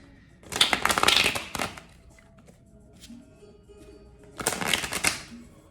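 Tarot cards are shuffled hard in two brisk riffling bursts, close and crisp, separated by a quieter pause with faint handling sounds.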